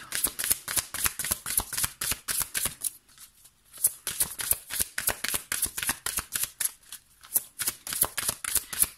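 Tarot-style cards being shuffled by hand, a rapid riffling patter in repeated bursts with short gaps, close and fairly clear, no one speaking over it.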